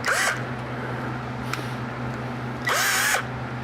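A power drill whirs in two short bursts, one at the start and one near the end, with a steady mechanical hum between.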